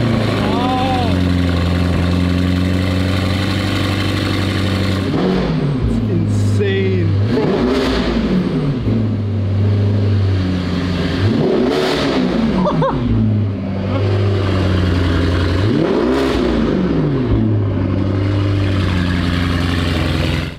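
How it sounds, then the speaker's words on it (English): A Lamborghini Urus engine revs loudly in repeated rising and falling bursts over a steady idle rumble, close and powerful, with people talking over it. "Potentially the loudest Urus in the world."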